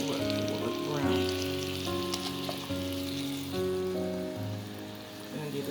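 A garlic ribeye steak searing in a hot pan, a steady close sizzle and crackle running throughout, with background music tones layered over it and no talk.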